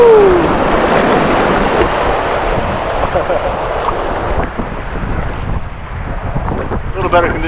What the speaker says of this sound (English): The wind's now behind me.